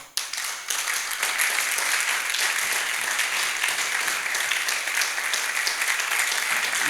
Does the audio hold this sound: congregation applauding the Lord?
yes